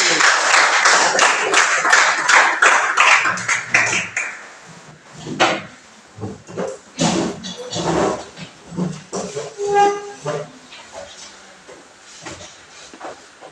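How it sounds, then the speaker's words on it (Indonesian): Classroom applause for a student group, several seconds of loud mixed clapping that fades into scattered claps alongside voices and chatter. "Kita berikan aplaus dulu untuk kelompok 1."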